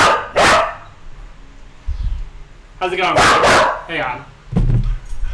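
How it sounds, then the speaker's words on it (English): A dog barks sharply several times and whines between bursts, close by and loud, while someone talks to it. "I gotta put this dog in the cage"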